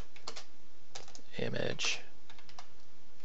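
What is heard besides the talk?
typing on a computer keyboard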